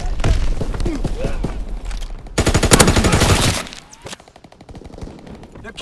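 Heavy automatic gunfire in a Call of Duty: WWII domination match, loud rapid machine-gun bursts with thumps, peaking in a dense volley mid-way before thinning out; voices talk over parts of the fighting.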